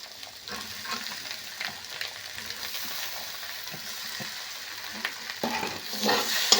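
Soaked sago is stirred into frying egg, potato and spices in a pan, with a soft continuous sizzle under intermittent spatula scrapes that swell louder near the end; no one speaks.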